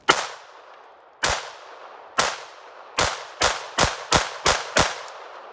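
Ruger LCP II Lite Rack .22 LR pistol firing CCI ammunition outdoors: nine sharp shots, the first few spaced about a second apart, then a faster string of six, each with a short ringing decay, close and loud with no talking.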